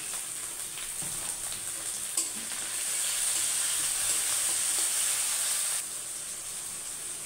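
Chopped onion and tomato with green chilli fry in a pan, a steady close sizzle and hiss that swells louder midway, then eases back, with no talking.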